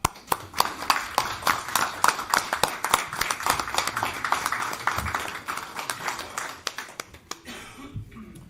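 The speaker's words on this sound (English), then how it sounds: "I would like to just give a round of applause just for their hard work" A round of applause at a town council meeting: many crisp individual claps in a small room, fairly close and steady for about seven seconds before thinning out into a few last claps.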